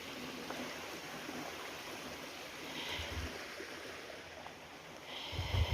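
A woodland river flows with a soft, steady rushing close by, faint and continuous with a few brief rustles and bumps, no speech.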